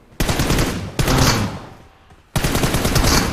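Bursts of AKM rifle fire in an online shooter video game, three loud sustained volleys close up with a brief gap between the second and third, no talking.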